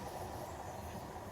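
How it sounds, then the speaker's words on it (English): An Acela high-speed train passing near Metuchen Metro Park, a brief steady rushing roar of rail noise at even loudness with no voices. "the high-speed trains like this one, the Acela"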